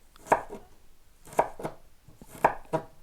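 A knife cuts food into little slices, three pairs of close, crisp strokes, each a quick double chop on a board with short pauses between, nothing else heard.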